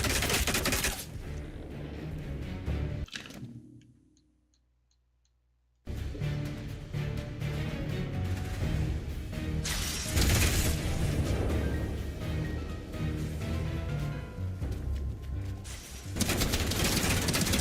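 Gunfire in the video game Atomfall, rapid bursts of shots and crackling fire over loud game music, broken by a short silent gap, then resuming densely and close.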